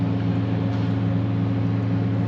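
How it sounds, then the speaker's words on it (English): Steady industrial mill noise fills the background by a Great Lakes harbour where a classic freighter is arriving, a constant low droning hum with tonal bands that stays even throughout and has no talk over it. "the noise you can hear in the background is coming from the mill"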